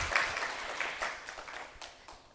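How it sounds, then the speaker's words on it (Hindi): Audience applause at a student awards ceremony, moderately distant clapping that swells at the start and gradually thins out. "प्लीज़ एक बार ज़ोरदार तालियां हो जाए।"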